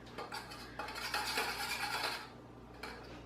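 Spoons and dishes clattering and clinking close by in a kitchen as a spoon is fetched for tasting, a dense rattle that fades out near the end.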